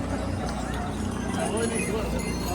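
Hooves of an exhausted, trembling horse clip-clop in a steady rhythm on the crowded Kedarnath pilgrimage trail, fairly close, under constant chatter from people nearby.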